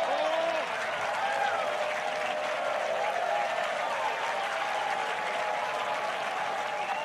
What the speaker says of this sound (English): Now the gallery can cheer.